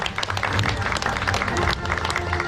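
Loud, dense audience applause welcoming an official at the opening of a national seniors' park golf tournament, a crowded, busy patter of many hands with crowd murmur and some voices mixed in.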